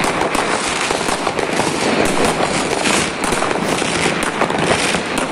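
Dense, continuous barrage of New Year's Eve fireworks and firecrackers bursting at midnight in a foggy German city street, loud crackling and popping overlapping with no gaps.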